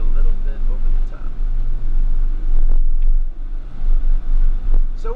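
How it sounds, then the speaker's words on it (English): A car drives up a new highway on-ramp, with steady engine rumble and road noise filling the background while people talk over it. "As we drive on the brand new off-ramp, or on-ramp"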